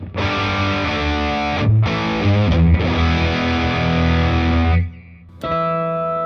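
Electric guitar driven through the amp's gain channel, a Nirvana chorus pedal and a Boss digital delay, playing a loud distorted riff of sustained chords with brief gaps, ending on a quieter held note then a fresh strum.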